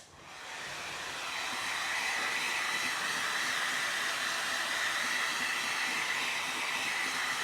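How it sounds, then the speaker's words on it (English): A heat gun blows steadily on van window tint, a loud, continuous airy hiss that swells in over the first second or two and then holds without a break. "Go around with the heat gun."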